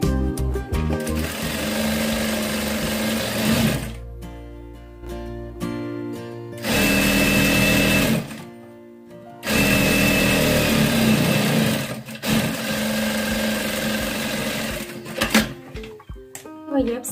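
A sewing machine stitches the outer edge of a lined sleeve ruffle in several loud, steady bursts with short pauses between, and someone talks over and between the runs.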